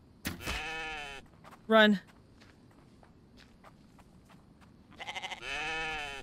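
Goats bleat in a survival video game, a wavering cry early on, a sharp short bleat near two seconds, then a longer loud bleat at the end, with footsteps and a voice talking between them.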